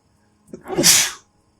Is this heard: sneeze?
yes